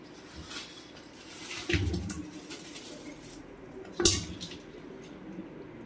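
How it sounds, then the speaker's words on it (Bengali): Magur catfish being placed into a cooking pot with water, with a couple of clanking metal pot knocks and sloshing, wet handling sounds at close range. "এই যে হাঁড়ির মধ্যে দিয়ে দিই, দিয়ে জল দিয়ে রেখে দেবো"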